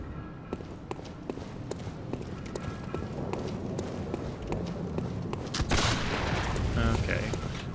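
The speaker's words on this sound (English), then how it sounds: "That guy's shooting at me now." Enemy gunfire in the video game Bloodborne, set in Central Yharnam: sharp repeated shots and impacts cut through a busy game soundscape of footsteps and movement, growing denser and louder toward the end.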